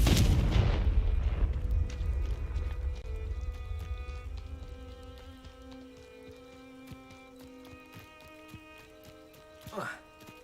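A Confringo spell explosion in the video game Hogwarts Legacy lands as one loud booming blast at the start, then rumbles and fades under a ringing game tone, with a short whoosh near the end.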